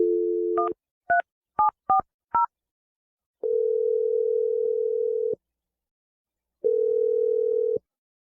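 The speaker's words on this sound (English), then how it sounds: "I'm going to dial Adam's phone number right now" A phone number is dialed on a telephone keypad as a quick run of short touch-tone beeps, followed by two long, steady ringing tones separated by silence.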